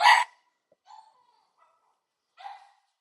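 Several dogs bark at people chatting out in the street: a loud burst of barks at the start, then a softer bark about a second later and another short volley near the end, with silence between.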